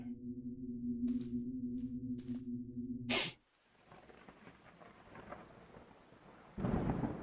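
A thunderstorm in the horror game Wardwell House: a loud thunder crack splits the steady drone, then rain hisses and rumbles on, swelling again near the end.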